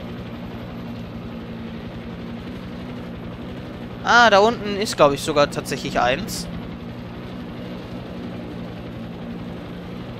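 Helicopter flying in Far Cry 6, steady low droning rotor and engine hum throughout, with someone talking over it partway through.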